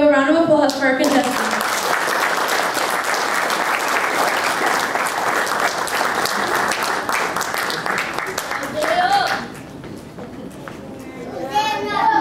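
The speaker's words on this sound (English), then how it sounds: "Give a round of applause for our contestants." Dense audience applause for contestants at a children's pageant, sustained and loud for about nine seconds with an announcer's voice briefly at the start and a speaking voice returning as the clapping fades.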